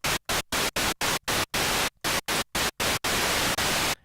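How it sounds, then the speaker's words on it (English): Bursts of harsh white noise from a synthesizer's noise generator hiss in rapid on-off gates, chopped into short uneven pulses before settling into longer sustained blasts. "We have a white noise generator."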